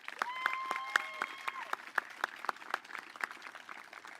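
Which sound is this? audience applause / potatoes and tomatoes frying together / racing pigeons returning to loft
audience applause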